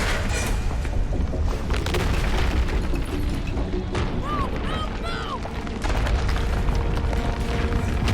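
In Mass Effect, a loud, sustained booming roar of explosion and blast rumble fills the scene, dense and close throughout, with a voice speaking faintly beneath it.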